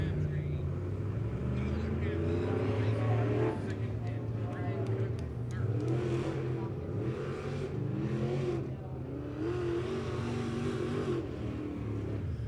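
Race cars roar through the finish of a heat at Lebanon Midway Speedway, a steady loud engine drone with rising and falling revs, while an announcer calls the action over a loudspeaker.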